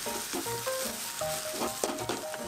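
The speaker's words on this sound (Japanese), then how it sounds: "お肉にある程度火が通ったら、キノコ類も全部加えて炒めていきます。" Meat and mushrooms stir-fried in a pan, seasoned with salt and pepper, giving a loud steady sizzle with the scrape and clatter of stirring, close by and with no talking.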